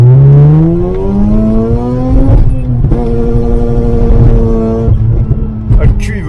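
A Mazda RX8 drifting, its engine revving loud and close with rising and falling harmonic whines that climb, drop and climb again, while people talk over it inside the car.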